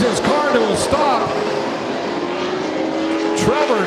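Race cars circling a banked oval track during a late-model charity race, several engines whining past in rising and falling sweeps, with a commentator talking over the continuous motor noise.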